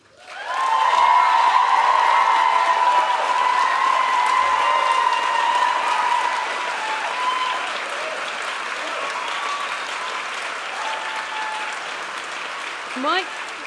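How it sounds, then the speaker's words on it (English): An audience at a university medical school graduation ceremony applauds a staff award winner, and the loud, sustained clapping fills the hall and slowly eases off over more than ten seconds. "could you please stand when I call your name so that we can applaud you?"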